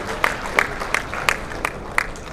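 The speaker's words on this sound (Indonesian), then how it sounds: "Tepuk tangan dulu untuk RT RW" An audience at a Makassar city development-planning meeting claps in a steady, rhythmic series of beats, moderately loud across the room.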